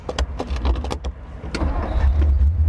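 1956 Ford Thunderbird with a Ford-O-Matic transmission starting in neutral: the starter cranks in a few bursts and clicks, then the engine catches into a low, rumbling idle close by.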